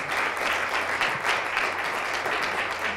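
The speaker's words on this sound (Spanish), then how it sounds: "Así que un aplauso también para Casa de los Amigos." Sustained audience applause at a Spanish-language novel presentation, a dense steady patter of many hands clapping at moderate volume throughout, with no talk over it.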